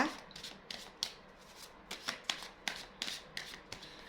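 Tarot cards shuffled in a steady series of crisp riffling bursts, close and fairly quiet, with no voices.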